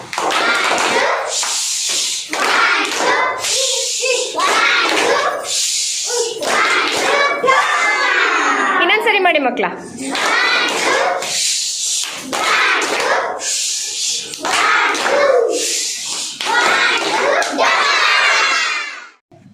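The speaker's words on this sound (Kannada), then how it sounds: "ರಾಕೆಟ್ ಚಪ್ಪಾಳೆ ಹಾಕೋಣ." A group of children doing a rocket clap, with claps and excited shouting mixed with young voices and an adult talking, bursting in repeated waves close by.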